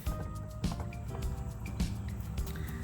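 A rock tumbler barrel holding windowed rhyolite and coarse silicon carbide grit slurry is rinsed out, giving a close, continuous mix of running water, dripping and wet sloshing.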